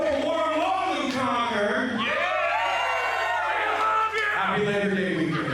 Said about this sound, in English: and you hear this crowd.